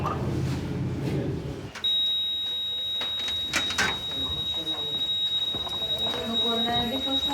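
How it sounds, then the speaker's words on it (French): A shop intrusion alarm sets off a steady high-pitched electronic tone that holds through the scene, under people talking and background bustle. "Donc on a un déclenchement d'alarme."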